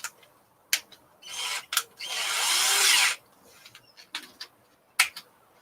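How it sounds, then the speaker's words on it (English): A power drill fitted with a freshly swapped bit whirs in short bursts close by, with one longer run of about a second, plus scattered clicks and knocks between. "swap my drill bit."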